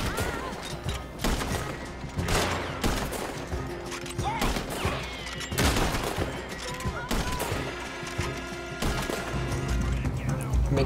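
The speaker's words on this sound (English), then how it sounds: "Just shoot them where they stand." Gunfire in the western video game Red Dead Online, near at Saint Denis: rapid repeated gunshots and volleys crack continuously, loud and dense, with several heavier blasts standing out.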